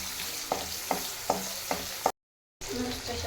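Spices for tempering crackle in hot oil in a pan, with a steady close sizzle and a few sharp stirring clinks from a spoon at an even rhythm, then a brief cut to silence before the frying resumes.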